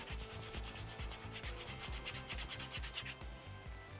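A potato is rubbed hard back and forth on a woven-wire screen product, making a close, rhythmic scraping with about two strokes per second that continues steadily.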